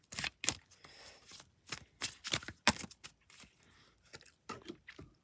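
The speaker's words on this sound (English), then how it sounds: "All these cards are just flipping over." Tarot cards are flipped over one after another, giving a quiet, close series of sharp papery snaps and slaps at irregular intervals, with soft rustling between them.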